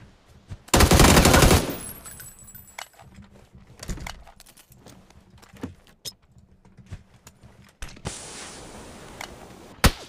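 Rapid video-game gunfire erupts in a loud sustained automatic burst, then gives way to scattered single shots, clicks and impacts with a hissing effect near the end.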